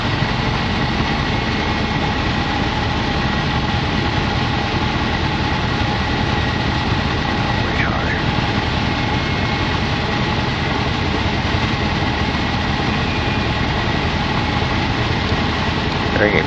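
Cockpit noise of a light training aircraft with full flaps on a steep approach, its engine drone throttled back toward idle, a loud continuous hum filling the whole stretch.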